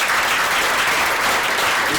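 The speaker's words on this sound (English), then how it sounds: "So you can applaud for Kjeld Kroon." An audience applauds a panelist at a panel discussion, with dense, continuous clapping that is loud and close throughout the short stretch.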